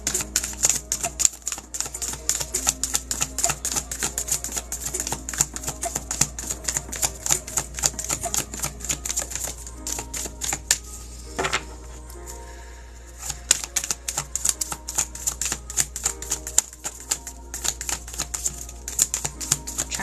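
A deck of cards is shuffled at length during a live card reading, giving a dense, continuous riffling and snapping that runs nearly unbroken for the whole stretch with only short pauses.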